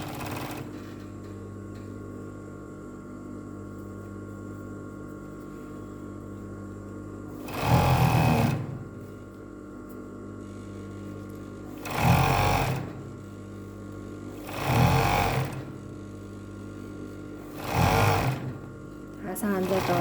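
A sewing machine stitching a shirt cuff, running in four short whirring bursts separated by pauses, with a steady background hum throughout.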